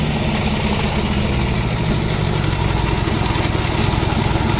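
A 45 Harley hot rod engine idles steadily at close range on its first start, a loud, continuous rumbling putter with no pauses or speech over it.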